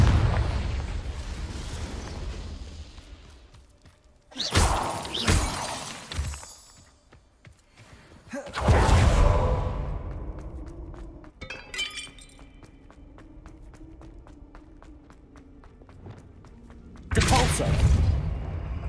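Confringo fire spell blasts in Hogwarts Legacy, loud bursts with crackling, shattering debris, several impacts spaced apart amid game ambience and a lower humming effect in between.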